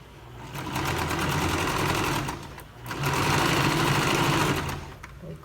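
A sewing machine runs in two close, loud bursts as it stitches a seam on a princess-cut blouse, with a brief pause between the runs and no speech over it.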